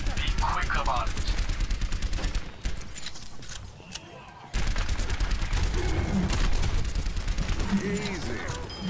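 Shotgun fire from an Overwatch match, dense bursts of loud, close gunshots crowding the first few seconds and again after a brief lull, with a voice talking over the combat.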